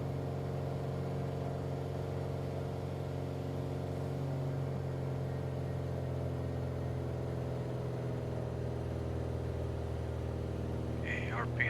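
Steady drone of a Piper Arrow III aircraft engine in Microsoft Flight Simulator, an even hum held throughout at cruise, with a brief faint chirp near the end and talk over it.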